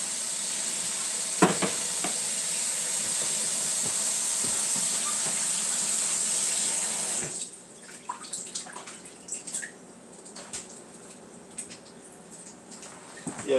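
Chicken curry and cabbage begin cooking in a pan, giving a loud even sizzle and hiss that suddenly drops to a softer crackle partway through, with scattered scrapes and clinks of a utensil.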